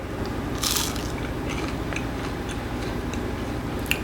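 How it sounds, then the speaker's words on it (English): Crisp crunching from biting into dry, crunchy food, a few sharp crackles over a steady low background hum, close up with no talking. "It feels crispy actually. You hear that?"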